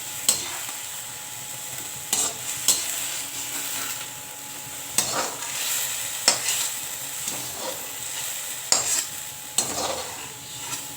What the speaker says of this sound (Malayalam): നമ്മുടെ മഷ്റൂം വഴറ്റി വന്നിട്ടുണ്ട്. അതുകൊണ്ട് നമുക്ക് കോരാം പ്ലേറ്റിലേക്ക്.